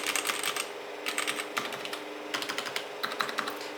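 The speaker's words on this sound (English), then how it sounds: "and the MX black sound like this." Keystrokes on an Epomaker GK68X 65% mechanical keyboard with Cherry MX Black linear switches, typed in close bursts of rapid clacks separated by short pauses, with no voices.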